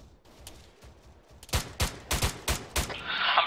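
Gunfire in the video game Arma 3: scattered faint shots at first, then a run of sharp, loud single shots in quick irregular succession, ending in a hissy burst.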